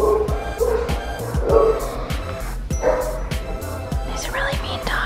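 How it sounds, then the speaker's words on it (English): A dog outdoors barks repeatedly in sharp, fairly loud bursts, some high yips among them, spread across several seconds over a steady background hum. "There's a really mean dog out there."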